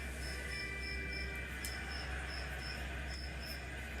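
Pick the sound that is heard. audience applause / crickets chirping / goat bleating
crickets chirping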